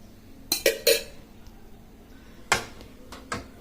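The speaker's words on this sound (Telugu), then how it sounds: "ఇప్పుడు మనం ఒక కళాయి పెట్టుకొని అందులోకి 1 టేబుల్ స్పూన్ వరకు అయితే నెయ్యి వేసుకుందాము" A metal kadai is set down with a few sharp clanks, followed by soft scraping and tapping as a spoon adds ghee, short distinct knocks separated by quiet pauses.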